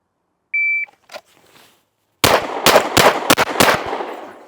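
A shot timer gives a single short electronic beep, then after a pause a pistol fires five loud, sharp shots in quick succession at close range, outdoors during a cold-start drill by a shooter wearing gloves.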